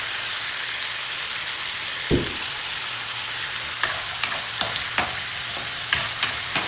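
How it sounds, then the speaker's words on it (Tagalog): Oil sizzles and hisses continuously as carrots and potatoes fry in a pan, with a louder splash early on and scattered scraping clinks from stirring. "So, ipiprito lang natin tong ating carrots at patatas."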